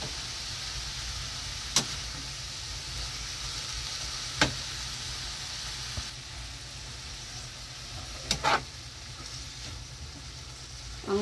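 Dried fish goes into a pan of sizzling tofu and vegetables, giving a soft steady frying hiss broken by a few sharp clicks and knocks from a utensil.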